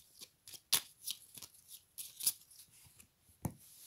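Oracle cards shuffled by hand in quick riffling bursts with sharp snaps and soft papery rustles, close up and quiet, with no voice.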